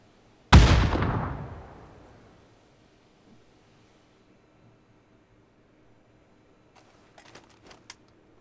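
A single loud, close explosion from a grenade in the battle-royale game PUBG booms and rings out into a long decaying rumble, followed later by a faint scatter of distant gunshots.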